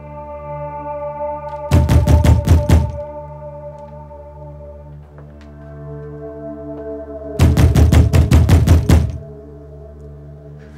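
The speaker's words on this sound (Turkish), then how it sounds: "Yıllardır şu kapı çalıyor." Two bursts of loud, rapid knocking on a palace door, each a quick run of several sharp raps, separated by a few seconds of low sustained drone music.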